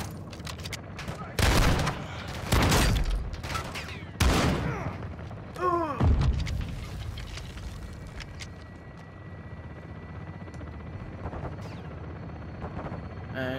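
Gunfire in Call of Duty: Modern Warfare 2 comes as several loud, close bursts of shots in the first half, each with a booming tail, then fades to lower battle noise with faint voices.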